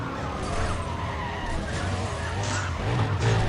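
A car braking and skidding in Need for Speed Undercover, a loud sustained tire screech over a steady engine roar, with no voices.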